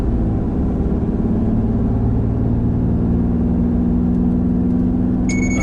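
A Ram 2500 Cummins diesel pickup in haul mode accelerates while towing, a steady droning engine whir that climbs gradually through long gears, loud and close throughout, with no talking.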